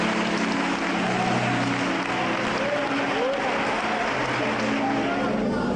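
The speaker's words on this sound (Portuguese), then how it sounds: "dê a Cristo uma linda salva de palmas" Church congregation applauding during a service, a steady dense wash of clapping with voices speaking and calling out over it.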